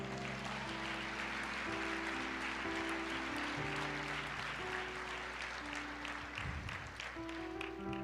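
Sustained applause from a church congregation fills the space, steady clapping over soft held musical tones, continuing evenly without a break.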